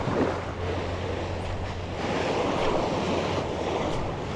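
Ocean waves surge steadily against a rocky, slippery, moss-covered shoreline at a fishing spot, a continuous broadband roar with gusty wind noise throughout and no talk.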